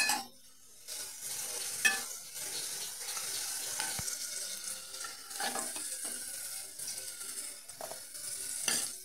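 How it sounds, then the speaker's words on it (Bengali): Vegetables frying in a pan with salt added, a steady sizzle broken by scraping stirs of a spatula at irregular intervals, close up with no voices. "লবণ দিয়ে সবজিগুলো আবার মিশিয়ে"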